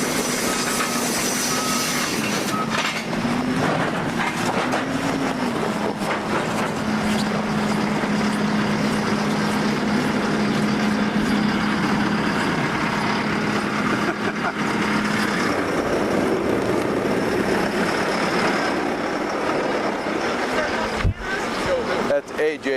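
A tractor engine runs at an ice art championship site, giving a steady, moderately loud mechanical hum with a sustained low drone that continues through most of the stretch before easing near the end.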